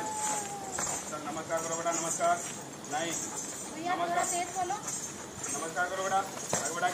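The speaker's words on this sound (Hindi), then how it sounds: "ये रामा पीर की घोड़ी है," A mare's hooves clip-clop in uneven bursts close by, with someone speaking over them much of the time.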